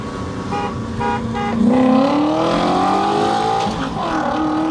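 Two BMWs, an E34 540i sedan and a Z3 roadster, race side by side, engines rising in pitch as they accelerate hard, loud and close with a brief tire squeal and a short horn toot early on.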